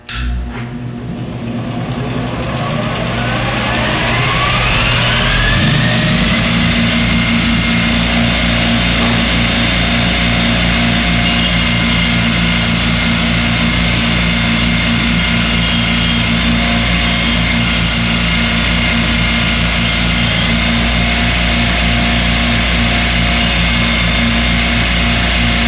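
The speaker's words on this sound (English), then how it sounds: "This is used with the white polishing wheel to put a high polish finish on." A multi-tool refinishing machine spins up and runs steadily with a white buffing wheel, polishing a golf club: a loud, sustained motor whine that climbs in pitch over the first few seconds, then holds without any talk.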